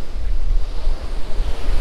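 Sea waves wash steadily onto a shore after a breezy morning, a continuous low rumble and hiss mixed with gusting wind noise on the microphone, with no voices.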